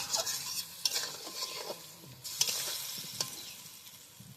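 A utensil stirs spices around frying shing fish in a pan, giving a soft hissing sizzle broken by several scraping strokes and light clinks, close and quiet.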